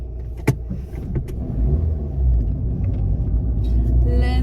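Steady low rumble inside a moving car, with a few sharp knocks and clicks early on and a faint whine near the end, no music playing.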